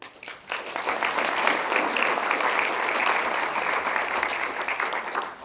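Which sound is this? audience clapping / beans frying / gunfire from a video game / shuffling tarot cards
audience clapping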